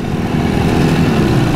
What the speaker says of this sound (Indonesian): Suaranya sangar banget, RPM-nya kayak tinggi banget gitu.